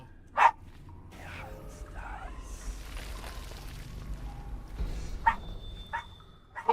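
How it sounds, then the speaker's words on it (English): Dog barking at a bone filled with cheese and bacon, a few sharp close barks and yips scattered over several seconds, with a low rumbling background and faint whining between them. "now he just barks at it instead of just laying on the floor and eating it quietly"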